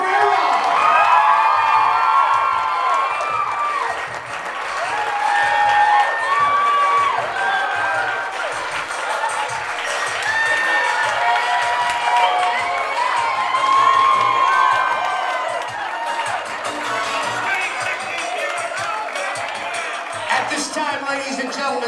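Party audience at a quinceañera in Boston cheering, whooping and clapping for the court, loud and sustained with shrill shouts and children's voices throughout.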